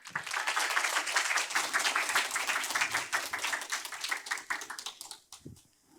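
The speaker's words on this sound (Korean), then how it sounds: "큰 박수 부탁드립니다." A Unity game-developer conference audience gives a round of applause to welcome a session speaker, brisk and full at first, then thinning and fading out near the end.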